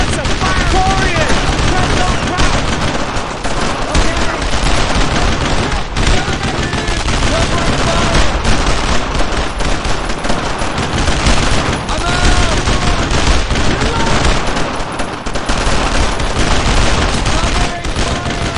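Dense, continuous gunfire in Brothers in Arms: Road to Hill 30, a World War II battle with overlapping machine-gun bursts and rifle shots, loud and close for the whole stretch, with shouted voices partly buried beneath.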